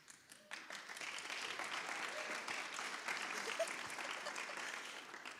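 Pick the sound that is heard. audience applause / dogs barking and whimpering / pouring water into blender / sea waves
audience applause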